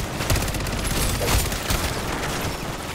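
A turret fires in Modern Warfare Zombies, a dense, loud burst of rapid automatic gunfire with booming impacts that carries on without pause.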